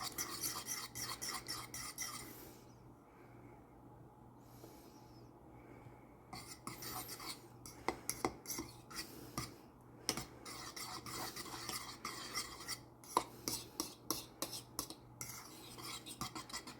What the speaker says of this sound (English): Mix with your fork.